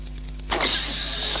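A DeLorean's engine starts with a sudden cranking catch and then settles into a steady, loud running roar, close and continuous, with no talk.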